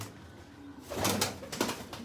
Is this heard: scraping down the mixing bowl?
no